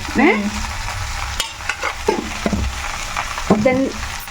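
A spatula scrapes and stirs ridge gourd frying in a pan, with a steady sizzle and a few brief bits of speech.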